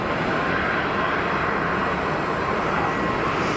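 A jet airliner departing from Geneva Airport roars steadily as a broad, continuous engine rumble, loud and unbroken throughout with no voices over it.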